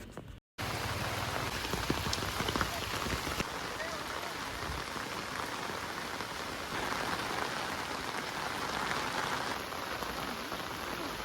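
Heavy rain pours down steadily in a green rural spot in Kanyakumari district, a dense, loud, even hiss of drops on surfaces that continues without pause after a brief gap near the start.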